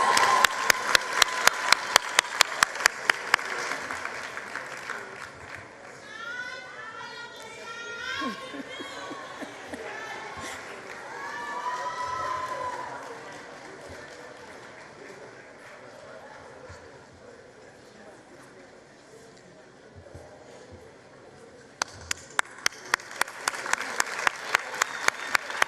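An audience at a matric results announcement applauds in sharp, rhythmic bursts of clapping at the start and again near the end, with murmuring crowd noise, chatter and shouts in between.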